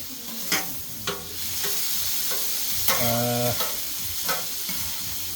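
Chicken and cheese schnitzels sizzle on a flat top griddle with a constant, loud crackle, broken by several sharp utensil taps and a brief metallic scrape, and no voices.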